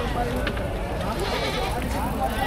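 Goats bleat amid a dense, noisy crowd at a livestock auction in Padre Garcia, Batangas, with people talking nearby and constant background hubbub.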